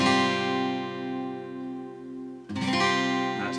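An acoustic guitar plays part of a song's chords: a sustained ringing chord, then a fresh strum near the end, close and clear with no talk.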